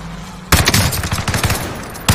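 Video game assault rifle fire bursts in suddenly after a quiet moment, a rapid, loud, close string of shots that stops and then starts again at the very end.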